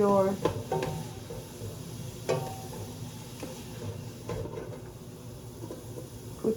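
Mushrooms for a brown rice risotto sauté on medium-high to high heat, a soft continuous sizzle with occasional utensil taps and stirring knocks, close and moderately quiet.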